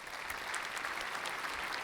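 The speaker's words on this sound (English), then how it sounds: "It's more of a golf clap." Polite, restrained applause in the style of a golf clap from a small audience, a soft steady patter of claps lasting just under two seconds, fairly quiet and even with no standout cheers.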